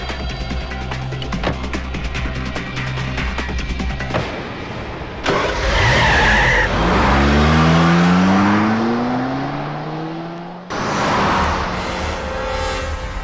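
Car engine starting, revving loudly and accelerating in a Bollywood movie chase, with rising engine whine, a brief tire screech and fast passes, all without speech.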